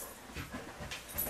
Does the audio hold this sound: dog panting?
yes